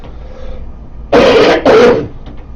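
Two loud, harsh bursts of throat clearing and coughing from a person with a cough, in quick succession, close up, with quiet room tone around them.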